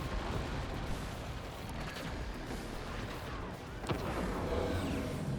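Weapons firing at an enemy fort in the game Forts: a dense, continuous rumble of artillery and gunfire with scattered sharper blasts, steady and loud throughout.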